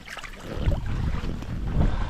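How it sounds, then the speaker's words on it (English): Gusty wind buffets a rainy wilderness campsite, a steady broadband rush that swells and surges in two stronger gusts, close to the microphone with no speech. "The wind's starting to pick up too. It's a bit breezy."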